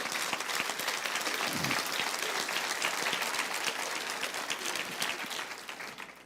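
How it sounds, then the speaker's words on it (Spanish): Congregation at a Spanish-language church sermon applauding, a full, even roar of clapping that holds for several seconds and eases slightly toward the end. "Sí, aplauden al Señor si quieren"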